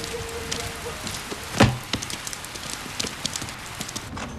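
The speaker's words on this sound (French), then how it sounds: "Ah bah tiens, il pleut." Rain patters softly and irregularly on a surface, scattered drops tapping with one sharper knock partway through.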